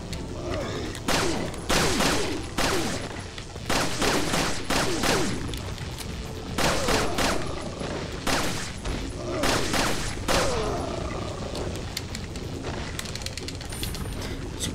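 Gunfire in Resident Evil 4 comes in repeated bursts of sharp, loud shots spread across the span, with someone talking and reacting between and over them.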